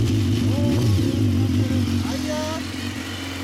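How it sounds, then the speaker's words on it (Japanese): A 2016 BMW S1000R with a factory Akrapovic exhaust idles with a loud, deep rumble and revs briefly, rising then settling, close by with faint voices. "おお、エンジン音聞かせてもらえる？"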